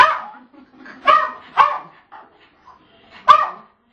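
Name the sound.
dog barking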